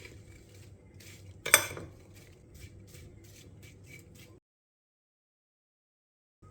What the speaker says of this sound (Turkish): Bir tepelem yemek kaşığı şeker ilave edip karıştırıyorum